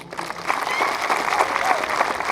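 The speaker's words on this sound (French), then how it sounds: "Alors je voudrais vous demander de vous applaudir très fort." Sustained applause from a crowd at a national police school graduation ceremony, a steady rustling roar of clapping with murmured voices beneath it.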